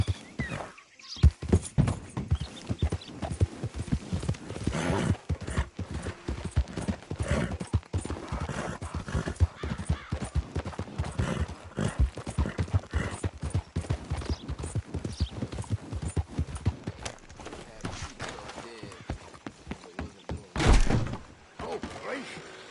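Horse hooves clip-clopping at a gallop in Red Dead Redemption 2, a steady rapid beat of thuds running for most of the stretch, with a voice talking over it.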